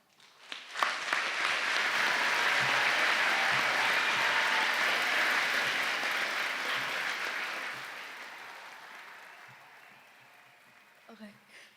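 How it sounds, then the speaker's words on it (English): Business and economics graduates at a university congregation ceremony break into sustained applause. It rises quickly to a dense, hall-filling clatter, holds for several seconds, then fades gradually to a few lingering claps. "let's give ourselves a round of applause"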